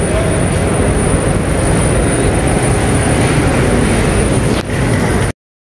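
Train at Kamalapur railway station in Dhaka, a steady loud roar and rumble that stays constant for about five seconds before cutting off abruptly.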